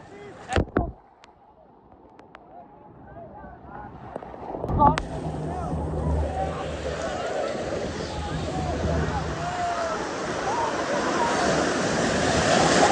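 Sea surf and strong current at Cox's Bazar beach, a steady rushing wash of waves swelling louder over time after a few sharp knocks and splashes near the start.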